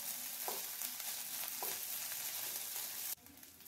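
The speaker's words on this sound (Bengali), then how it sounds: "এই মশলাটাকে তেলের সাথে নাড়াচাড়া করে খুব ভালো করে এটাকে ভেজে নিতে হবে" Spice paste sizzles and fries steadily in a small amount of oil in a pan, a close continuous crackle with a few faint stirring scrapes and no talking.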